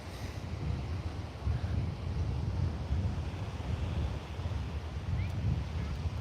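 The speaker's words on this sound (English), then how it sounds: "the waves are coming in heavy, and I'll probably wrap it up soon because, like I said, it's getting super windy" Strong wind buffets the microphone on a Melbourne beach, with heavy waves rumbling low and steady beneath it in a continuous roar.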